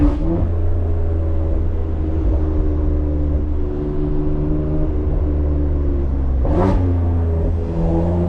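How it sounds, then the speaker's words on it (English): Tuned, catless BMW X3M pulling through the gears, a loud, steady engine roar with rising and falling pitch and one brief gearshift break near the end, heard up close from inside. "I'm just gonna slow down, probably put it into first and just pop it through the gears a little bit"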